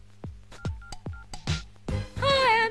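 Cell phone keypad beeps sound in a quick run of about seven short, clear dialing tones, followed by a brief ringing tone at the end.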